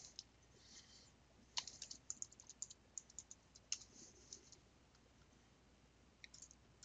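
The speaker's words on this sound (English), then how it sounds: "So I'm going to go ahead and type in email address." Typing on a computer keyboard to enter an email address into a Dynamics CRM field, faint scattered clicks in short bursts with pauses, alone in a quiet room.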